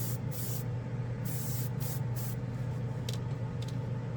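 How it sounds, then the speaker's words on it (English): Tamiya spray paint hisses from an aerosol can in several short, close bursts separated by brief pauses, over a low, constant background hum. "All right, Tamiya spray."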